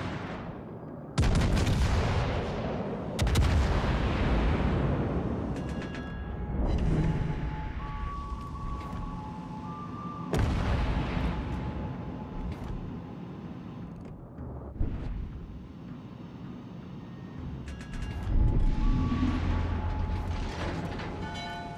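Naval artillery from the battleship Warspite in World of Warships: Legends, heavy booming salvos crashing out one after another, near and loud, with long rumbling tails and mechanical clanks between shots.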